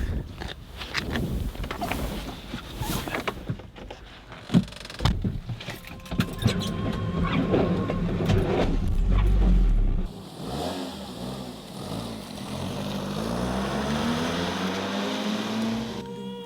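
A kit-built sports car on a road test drive, its engine note rising and falling with revving, a steady drone building toward the end, with clatter and rattles heard earlier.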